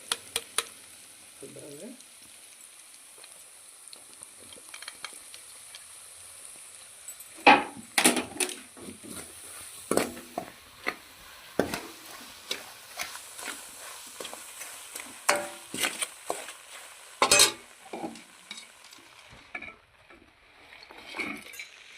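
Chili powder being stirred through bitter gourd frying in a pan, with a soft sizzle under repeated spoon scrapes, taps and clinks against the pan, and a brief spoken word partway through.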